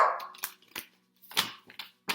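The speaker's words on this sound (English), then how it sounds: "I don't even know what my dogs are barking at." Several sharp, short dog barks in an irregular burst, fairly close with brief gaps between them.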